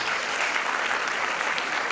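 Sustained applause from an audience at a West African Examination Council student awards conference in Freetown, steady dense clapping throughout without a break.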